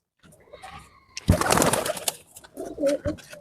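Soft coos from nearby domestic pigeons indoors, a few low throaty bursts with a louder rustling stretch in the middle.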